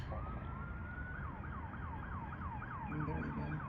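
An ambulance siren on a Los Angeles street switches from a long wail to a rapid yelp, moderately near over a steady bed of traffic noise, with a vehicle rumble swelling toward the end.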